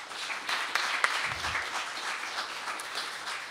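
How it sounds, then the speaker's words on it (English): Steady applause for the staff at a Riga Graduate School of Law graduation ceremony, a moderate crowd clapping continuously at an even level. "I guess this is a moment to applaud them."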